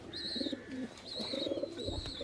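Old-bloodline pigeons coo in low, rolling murmurs close by, with a steady high-pitched whistle-like tone sounding in bursts over them.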